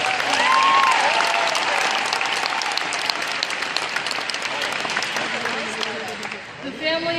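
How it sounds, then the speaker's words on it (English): Big audience applause at a Minecraft convention cosplay contest, loud continuous clapping with a few cheers early on, tapering off at the close as a voice returns. "Give her a big round of applause."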